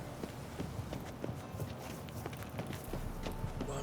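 Horse hooves clip-clop in The Witcher 3, a steady trotting rhythm of soft thuds over a constant background bed, moderately close and without talk.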